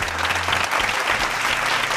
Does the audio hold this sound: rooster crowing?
no